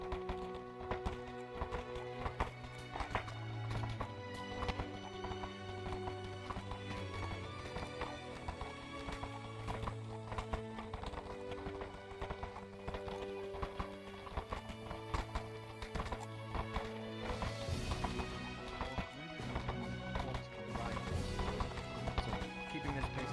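Horses' hooves clip-clopping in a VRChat roleplay game, a steady rhythmic trot under continuous music with tonal instruments, with occasional whinny-like sounds mixed in.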